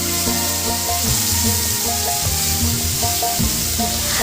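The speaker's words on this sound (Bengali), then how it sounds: "এবার অন্য পিঠটা ভেজে নেব।" Pomfret fish, flipped to its second side, frying in mustard oil in a pan, giving a constant loud crackling sizzle close by, with soft background music and no talking.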